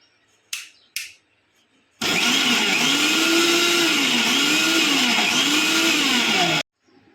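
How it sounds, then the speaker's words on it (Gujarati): After two quick clicks, a blender grinds mango with milk and sugar for a mango shake, a loud steady motor whir with a rhythmic wavering pitch lasting about four seconds before stopping abruptly. "હવે આપણે એને પીસી લઈશું"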